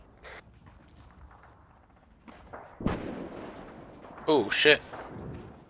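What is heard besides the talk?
frag grenade explosion in a military video game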